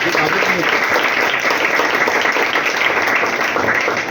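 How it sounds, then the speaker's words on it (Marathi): Loud, sustained applause from an audience at a corporator's birthday event at an institution for children, a thick continuous wash of many hands clapping close by, filling the entire stretch. "बोराडे साहेबांचा आपण आधी टाळ्यांच्या गजरात त्यांचा"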